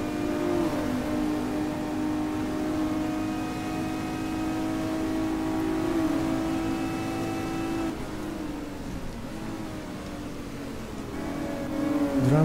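Race car engine in GT Legends, a steady high-pitched droning whine held for several seconds, then a clumsy shift to fifth gear with the pitch dropping and the engine climbing again.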